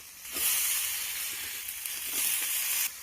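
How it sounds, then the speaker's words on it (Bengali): Chopped brinjal and slit green chillies hit hot oil in a pan, setting off a loud, steady hissing sizzle that swells at the start and cuts off sharply near the end. "এখন আমি এর মধ্যে দিয়ে দেবো কেটে রাখা বেগুন আর 3টে চেরা কাঁচা লঙ্কা"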